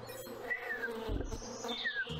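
Bees buzzing in the video game Wytchwood, a steady insect drone layered with thin chirping tones and a soft low thump partway through, with no speech.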